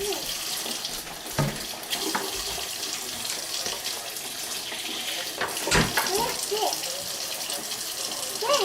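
A kitchen sink tap runs steadily while potatoes are scrubbed clean for German potato salad, a loud continuous splashing gush with occasional clunks of potatoes and hands in the basin.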